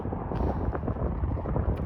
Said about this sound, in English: it feels a little windy right now, and the wind is blowing